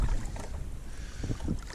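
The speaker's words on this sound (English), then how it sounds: "this wind is whooping" Strong wind buffeting a microphone on a riverbank while bank fishing for sauger, a steady roaring rush with gusty low rumble throughout, close and fairly loud, with no speech.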